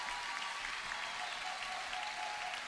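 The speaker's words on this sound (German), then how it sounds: "Gebt ihnen herzlichsten Applaus." Steady audience applause for musical performers at a Swiss Christmas musical, a dense even wash of clapping from a crowd, fairly distant and soft, with no talk over it.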